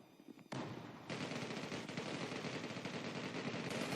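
Rapid automatic gunfire from a P200 gun in the mobile shooter game Zula, a dense continuous burst that starts abruptly and keeps rattling loudly through to the end.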